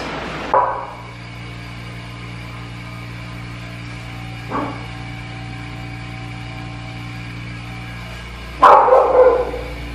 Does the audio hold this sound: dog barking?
yes